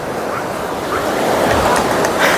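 Beach surf at Pitangueiras beach in Guarujá on a hot, crowded day, a loud continuous wash of breaking waves mixed with wind rumble on the microphone and no clear talking.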